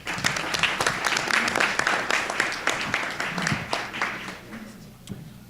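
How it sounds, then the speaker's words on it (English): Steady audience applause at a town council meeting, honoring the Altadena Guild, many hands clapping in a room for about five seconds before fading out, with a voice faintly underneath. "Let's give them a round of applause."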